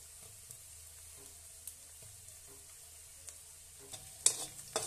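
Something browning in a pan while making desi-style Manchurian, giving a faint, steady sizzle with a few soft stirring scrapes and a louder clatter of the spoon near the end.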